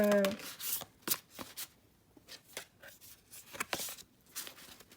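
Tarot cards from the TRANSIRE deck being shuffled by hand, a soft close riffling and sliding in short bursts, quiet and intimate with brief pauses and no speech.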